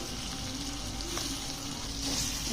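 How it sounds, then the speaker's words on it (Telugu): Vegetables fry on low heat in a pan with red chilli sauce and other sauces for fried rice, giving a continuous, even sizzle. Faint stirring scrapes come through now and then, with no talk. "అన్నీ వేసిన తర్వాత సిమ్లో పెట్టేసుకొని ఒక టూ మినిట్స్ అంతా బాగా వేపుకోవాలి"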